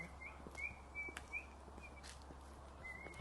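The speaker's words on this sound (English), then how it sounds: "There's definitely some birds in the trees over here." Faint birds chirp in short, high tweets, scattered a few times over soft outdoor hiss and a low background hum.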